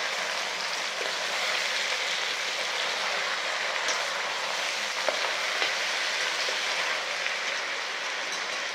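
A steady, soft sizzle of a spice tempering frying in a pan with ridge gourd, continuous and fairly quiet with faint crackles throughout.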